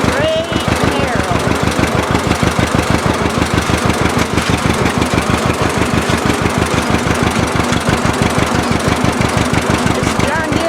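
A 1957 propane-fueled John Deere tractor engine runs steadily with a loud, rapid, even chugging firing rhythm throughout, close to the listener.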